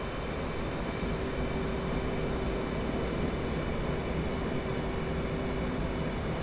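Steady broadband roar of an F/A-18 Hornet jet on carrier approach in the DCS flight simulator, a constant engine and airflow drone with a faint whine on top, unbroken throughout.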